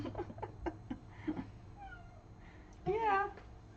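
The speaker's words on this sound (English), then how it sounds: "we have cats in here, so if you hear noises, the cats are in here with us." A house cat meows indoors, a long wavering harmonic meow near the end following a shorter, fainter call, heard alongside quiet talking and small handling noises in a room.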